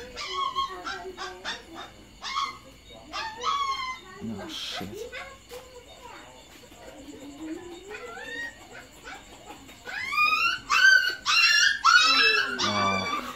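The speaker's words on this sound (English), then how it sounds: "these puppies that you heard screaming" Several puppies yelping and screaming in shrill, overlapping bursts, loudest near the end, with a person talking in between and animal noises close by.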